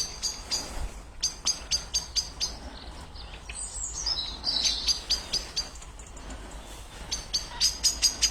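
Owls call at dusk in the South Downs countryside, a series of short, sharp, high calls repeating in bursts at a moderate distance over quiet evening ambience, mixed with other bird chirps.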